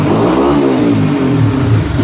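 A motorcycle engine with the clutch pulled in revs under launch control, loud and close: a continuous throaty roar that swells and wavers in pitch throughout, with no voices.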